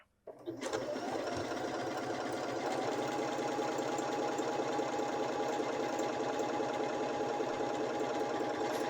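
A Janome 6700P sewing machine starts up and stitches leaves together at a steady fast rhythm, its close, even mechanical whir continuing unbroken after a brief start.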